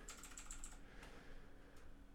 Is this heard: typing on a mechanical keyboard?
yes